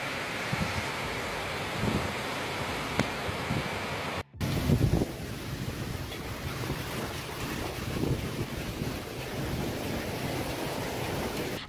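Strong gusting wind from Storm Isha in the UK buffets the microphone in a continuous roar, with a brief cut partway and heavier gusts after, near and loud.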